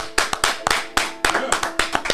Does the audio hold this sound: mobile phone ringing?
no